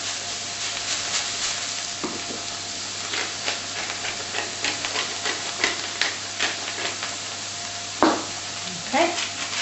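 Thai flavoured pork chops sizzle in an oiled pan with a steady frying hiss close by, broken by occasional scraping and clinks as the meat is seasoned and moved.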